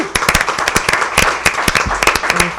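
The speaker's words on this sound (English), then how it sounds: "Please, everybody, let's give her a warm round of applause." Audience applause and cheering for a contestant at a live talent show, a dense burst of sharp claps with whoops near the microphone, loud and continuous throughout.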